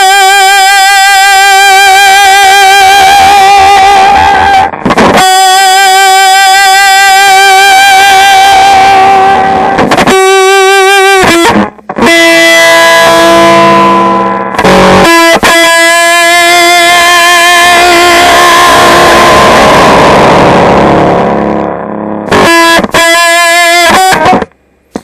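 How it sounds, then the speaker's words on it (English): An electric guitar on its neck pickup runs through a fuzz pedal with an octave effect, giving loud, thick, buzzing sustained notes with a doubled upper tone, played in long held phrases separated by brief breaks. "if you tame the distortion plus side a little more, you can get some respectable octaving sound."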